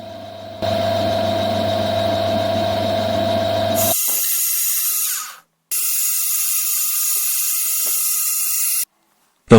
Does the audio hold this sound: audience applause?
no